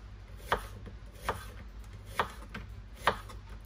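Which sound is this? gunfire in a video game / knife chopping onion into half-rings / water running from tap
knife chopping onion into half-rings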